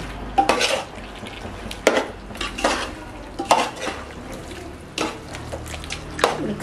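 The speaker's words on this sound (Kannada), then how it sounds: "ಕಟ್ ಮಾಡಿ ಇಟ್ಕೊಂಡಿದ್ದೀನಿ ಟೊಮ್ಯಾಟೊ, ಅದನ್ನ ಇವಾಗ ಹಾಕ್ತಾ ಇದ್ದೀನಿ." Chopped tomatoes go into a pot for nati-style biryani, with a series of spaced metal spoon scrapes and clinks against the pot and soft wet sounds in between, close and fairly quiet.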